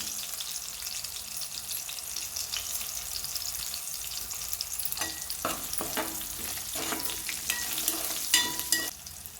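Garlic and cumin seeds frying in hot oil after green chillies, for a gongura chutney with dried fish: a steady high hiss with scattered crackles and spoon scrapes that grow sharper and louder near the end.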